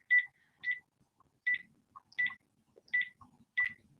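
A telephone is dialed: a run of about seven short, clean electronic keypad tones, spaced roughly half a second apart, clear against near silence.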